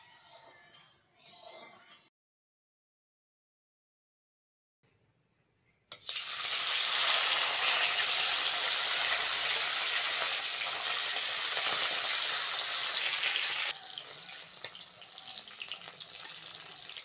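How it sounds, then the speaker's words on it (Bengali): Salted, turmeric-rubbed bhola fish pieces frying in oil on a stove, a loud, steady broadband sizzle that bursts in after a brief silence and keeps going. A few seconds of quiet kitchen sound come before it. "এইবার উনুন ধরিয়ে মাছটা ভেজে নেবো।"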